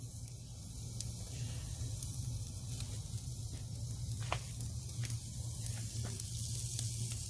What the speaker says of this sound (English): Going to let that fire sear that bone a little bit.